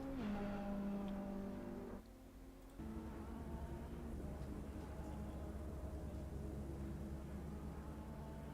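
Ferrari race car in the sim racing game Assetto Corsa Competizione at Bathurst, its engine holding a steady loud drone with a brief dip around two seconds before resuming.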